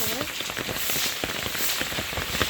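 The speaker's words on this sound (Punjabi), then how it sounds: "ਪੂਰਾ ਲਾ ਲੈਣ ਦੇ ਮੀਂਹ ਦਾ ਅੱਜ ਵੇਖ ਲੋ" Steady rain patters over a broad hiss, with scattered louder drops striking nearby surfaces.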